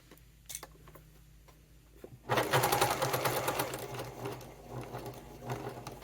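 Stitching a fabric wallet, a sewing machine starts up after a couple of quiet clicks and runs close and loud in a rapid, even needle rhythm that eases slightly toward the end.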